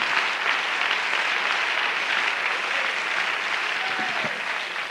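A church congregation claps their hands together, a full, even roar of many hands that continues steadily throughout, with a brief vocal sound near the end.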